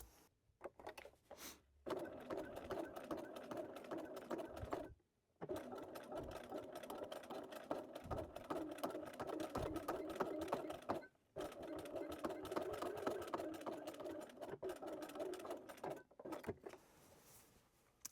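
A sewing machine stitches back and forth across the thick handle of a quilted tote bag, with a steady close whirring hum broken by a few brief stops between passes.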